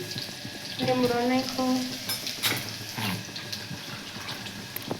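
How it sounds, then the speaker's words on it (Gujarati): Spices tempering in hot oil for a large pot of Girnari khichdi with green garlic, a broad crackling sizzle with stirring that swells early and settles into a steady hiss, a voice briefly heard over it. "હવે એમાં વઘાર વઘાર કરવાની તૈયારી હાલે છે"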